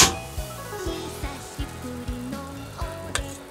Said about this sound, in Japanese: 最後仕上げ、強火でガー沸かして乳化させます。